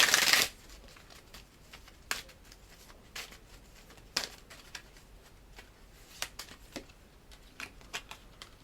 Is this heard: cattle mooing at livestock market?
no